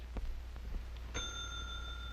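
A single bright ding of a bell for a clock reaction test rings out clearly and lingers, after a few faint ticks, close and alone with no talk.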